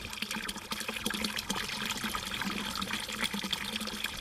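Clean water pours steadily into a chicken drinker on a smallholding in the Amazon, a continuous close splashing and trickling with no talk over it.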